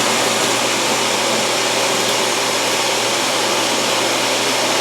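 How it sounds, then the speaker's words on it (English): An iRobot Roomba Combo 10 Max auto-empty dustbin station running, a loud, steady jet-like roar of rushing air and motor whine, continuous and close with no talk. "The iRobot machine does have an auto-empty dustbin, but it is extremely noisy."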